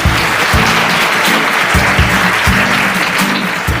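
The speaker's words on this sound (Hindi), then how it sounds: "ठीक है, खेल को शुरू किया जाए। यस। जोरदार तालियां हो जाए।" A studio audience on a televised quiz show applauds loudly and continuously. The dense clapping sits over a pulsing low musical beat that repeats in short bursts.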